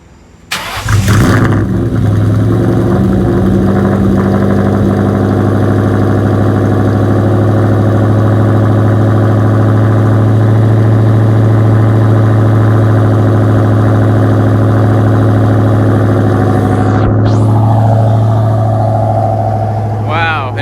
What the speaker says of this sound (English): It's never started up this quick before. I barely turned the key and it just fired right up.